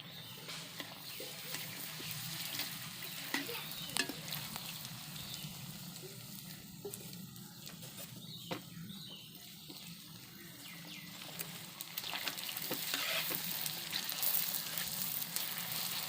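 Pani puri frying in hot oil, a steady broadband sizzle and crackle running continuously at low level, with faint background room noise.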